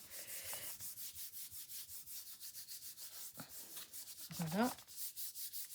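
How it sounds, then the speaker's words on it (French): Paper is rubbed by hand onto a painted gel press plate in a quick, steady back-and-forth rhythm of soft, close scuffs, with a brief spoken word partway through. "On frotte pour que ça adhère bien en dessous."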